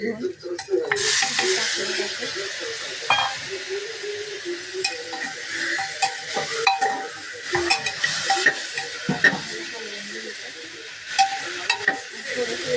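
Finely chopped tomatoes frying in a pan, with a steady close sizzle under intermittent stirring clinks and scrapes from a utensil.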